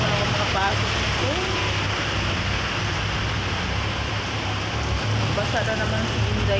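Steady rain pours down, a dense hiss of drops on surfaces that stays constant throughout, with faint voices now and then underneath.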